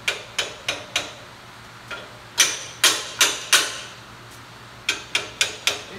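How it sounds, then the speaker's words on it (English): A hammer taps a steel axle C-gusset piece into place, giving sharp, ringing metallic strikes in three quick bursts of four to five blows each, close and loud over a quiet workshop background. "I'm going to tap this back piece all the way this way"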